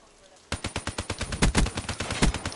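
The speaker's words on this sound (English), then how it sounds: "I missed all my shots, but I killed him." Automatic gunfire in the Call of Duty 3 video game, a rapid burst of about twenty close, loud shots fired in a steady rhythm after a short quiet start.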